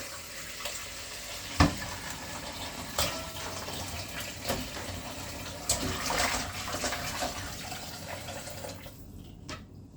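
Oxtail rinsed by hand under a running kitchen tap, a steady splash of flowing water with sharp knocks and drips as the meat is handled, close and fairly loud, the flow cutting off near the end.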